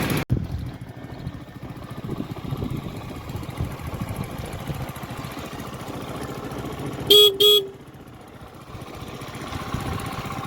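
Horn of a Honda Activa 4G scooter honks twice in quick succession, loud and close, over a steady background of engine and road noise, with no one speaking.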